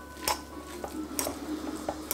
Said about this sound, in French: Et il ne nous reste plus qu'à mélanger tout ça.